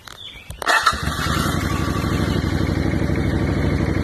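A 1986 Suzuki Intruder 700 motorcycle cranks briefly with a few clattering turns, then fires and settles into a steady, close, throbbing idle that runs on alone without talk.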